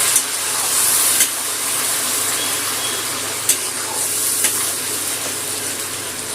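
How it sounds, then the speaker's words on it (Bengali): Onion paste frying in hot oil in a pan while cooking a chili chicken curry, giving a steady, fairly loud sizzle for several seconds with a few sharp spits and crackles. "পেঁয়াজ বাটাটা দিয়ে তেলের মধ্যে কষিয়ে নেব"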